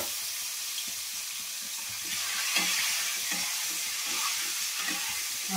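Eggs coated with turmeric and salt fry in hot oil, giving a steady loud sizzle with small pops and crackles throughout.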